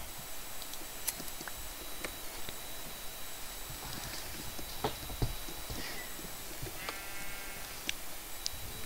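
Minecraft sheep bleat in short, scattered calls over a steady game background with occasional hoof-like clops, the sounds fairly near and moderately loud.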